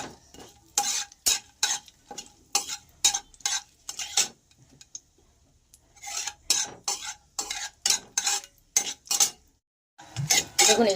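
Whole garam masala spices and two bay leaves frying in a pan, stirred with a metal spatula in rapid rhythmic scraping strokes over a faint sizzle, close up, pausing briefly midway then resuming.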